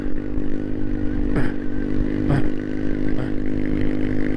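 A Vespa scooter's small engine drones steadily close by, with brief rising revs and a couple of sharp clattering bursts over the rumble.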